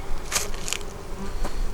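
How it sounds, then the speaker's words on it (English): Honeybees buzz around an open beehive during fall hive preparation and feeding, a close, uneven hum with a few louder passes near the ear over less than two seconds. "And we have more bees in here doing their thing."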